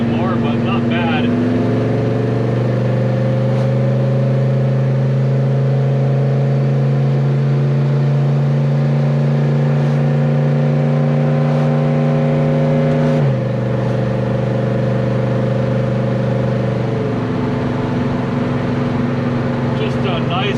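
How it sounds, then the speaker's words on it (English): A Chevelle engine drones steadily as the car accelerates lightly up a hill, a loud continuous hum that shifts pitch once midway, heard from inside the car. "Just a nice, light, steady acceleration up the hill there."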